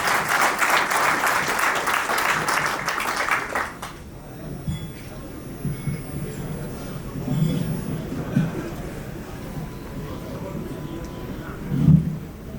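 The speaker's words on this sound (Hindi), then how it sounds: "तालियों से स्वागत करें।" At a retirement party, a room of people gives a welcoming applause, a dense burst of clapping for about four seconds. It is followed by quieter room noise and low voices.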